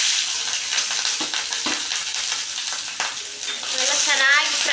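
Peanuts and green chillies fry in a pan for masala rice, a loud, continuous sizzle with stirring scrapes and a bubbling crackle near the end, no voices.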